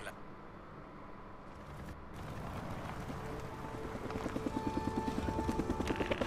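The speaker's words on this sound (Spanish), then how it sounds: "El helicóptero." Helicopter in the video game Days Gone, its rotor growing louder into a rapid rhythmic thumping chop that dominates the end, over a rumbling engine-like background.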